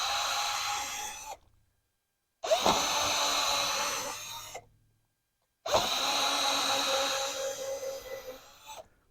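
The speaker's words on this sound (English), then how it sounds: "I'm going to drill holes in every single one of these" A power drill whirs in three separate bursts drilling holes into palm wax candles, each running a couple of seconds with short silent pauses between, close and fairly loud.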